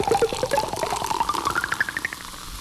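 Suzanne Ciani's Buchla-synthesized Coca-Cola pop and pour plays again: fizzy bubbling that gurgles upward in pitch as if a glass is filling, a continuous rising pour heard alone at close range.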